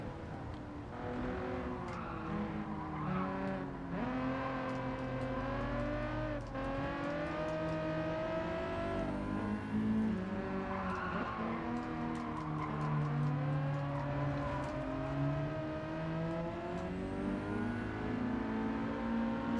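A 1989 Nissan 300ZX drives in Gran Turismo 7, its engine droning steadily throughout with rising and falling revs as it shifts and accelerates, plus a few brief tire-squeal accents, with no voices.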